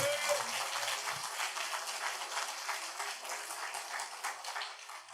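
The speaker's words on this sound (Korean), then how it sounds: "하나님께 박수로 영광 올리겠습니다." A church congregation applauding steadily for several seconds, a dense wash of claps that holds at a fairly even level throughout.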